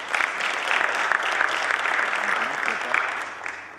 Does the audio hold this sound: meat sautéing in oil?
no